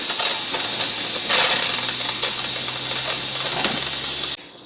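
Steam vents hard from an Instant Pot pressure cooker after cooking Korean-style beef ribs. It is a loud, steady hiss that goes on for several seconds, then stops sharply near the end.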